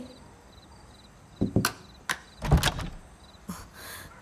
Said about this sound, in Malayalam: വാതിൽ തുറന്നേ